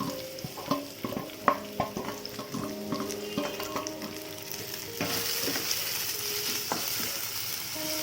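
Ginger-garlic paste, tomato and curry leaves sautéing in a pan, with a steady sizzle under repeated scraping and clinking strokes of a stirring spoon; the frying swells louder and hissier partway through.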